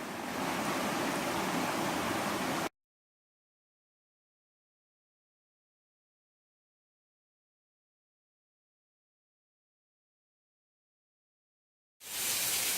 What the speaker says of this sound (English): We're going to go ahead and pour a little bit out to get the threads of the canteen